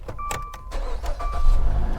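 An insurance-auction car with 125,000 miles starts up: a whirring starter crank and a chime, then the engine catches and settles into a low, steady idle, close and fairly loud.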